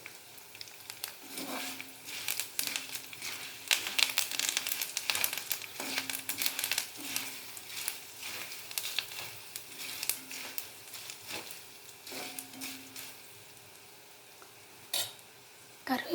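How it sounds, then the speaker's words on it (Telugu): Curry leaves crackling and sizzling in hot oil for a Telugu jowar flattened-rice mixture, with steady close frying hiss and repeated stirring scrapes throughout. "కరివేపాకు క్రిస్పీగా వస్తే సరిపోద్దండి, ఇది పెద్దగా వేగబడలేదు"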